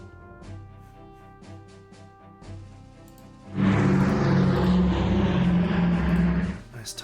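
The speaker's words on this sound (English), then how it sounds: "Time to send my maritime bomber back as well." Maritime bomber aircraft in the Strategic Command strategy game, a loud propeller-engine drone swelling in suddenly after quieter tonal game sounds and holding steady for a few seconds before cutting off.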